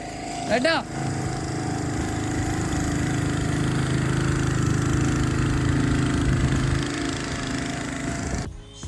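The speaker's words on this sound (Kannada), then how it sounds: "ನೋಡಿ ಒಂದು ಪ್ರೈವೇಟ್ ಬೋಟ್ ಬರ್ತಿದೆ" A motor boat engine drones steadily and close for the whole stretch, a continuous low rumble with a brief voice near the start.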